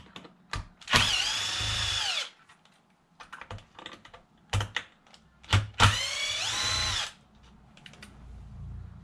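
Two bursts of a power drill whirring as it backs screws out of a Traxxas Wide-Xmaxx RC truck, each about a second long and separated by clicks and handling noises, fairly close.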